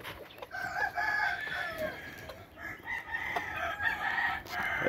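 A broody game hen with her chicks on a farm gives soft, repeated clucks, faint and somewhat distant, mixed with brief higher chick peeps and light background noise, and no speech.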